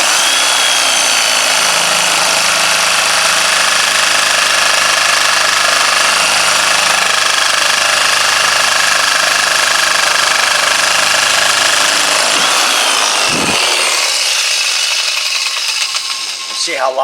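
A Diablo carbide-tipped blade cuts through a seized ball joint on a 1996 GMC Jimmy, producing a loud, continuous, harsh grinding whine up close that breaks off abruptly near the end.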